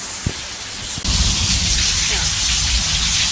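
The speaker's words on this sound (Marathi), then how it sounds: "जोरदार पावसाने सुरुवात केलेली" Heavy rain hisses steadily, suddenly growing louder and denser after a second, a constant roar of pouring water with a few low thumps.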